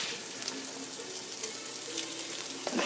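Yams and onions fry in a pan with bacon drippings, a steady, moderately quiet sizzle and crackle that continues without pause, with a brief stirring clatter near the end.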